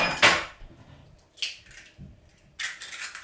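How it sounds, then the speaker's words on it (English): Two whole eggs cracked against a bowl for lemon curd, a few sharp close clinks and taps spaced out over a few seconds, separated by near silence. "I'm just going to add 2 whole eggs to that"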